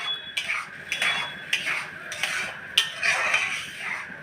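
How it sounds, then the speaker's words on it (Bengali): Ripe papaya being stirred in a pan for barfi, a utensil scraping and clinking against the pan in steady repeated strokes, close and clear with no talk. "কিছুক্ষণ একটু নাড়াচাড়া করে নিতে হবে।"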